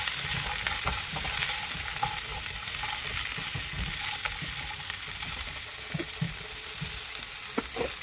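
Seasoned food with salt and black pepper sizzles softly in a pan while a utensil stirs and scrapes through it in irregular strokes, close and without talk.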